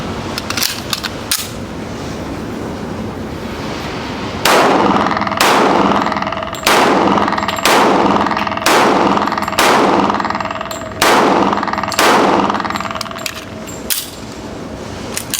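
Gunshots from a Rock Island 1911 compact M45 pistol: a string of about nine loud, sharp reports at a steady pace of roughly one per second, each ringing briefly, preceded by a few lighter metallic clicks and handling noises.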